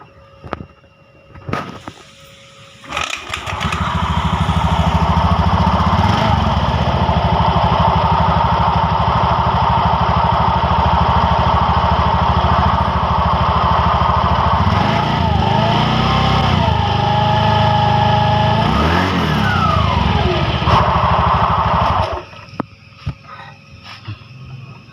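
A motorcycle engine coughs to life after a CVT repair and a rough-running transmission fault, then runs loud and steady up close for most of the clip, with a couple of brief revs before cutting off near the end.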